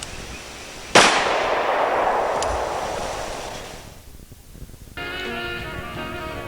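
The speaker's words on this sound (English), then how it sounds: "I believe I'll shoot it again." A single loud, sharp gunshot cracks out and rings into a long decaying echo across an open outdoor range, fading over several seconds before a tonal sound begins.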